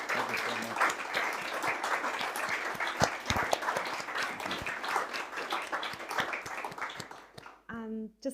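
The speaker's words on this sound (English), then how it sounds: "Let's give Declan one more round of applause" Audience applause after Declan O'Rourke's set at the Dingle literary festival, a dense steady patter of many hands filling most of the clip, easing off near the end as a voice begins.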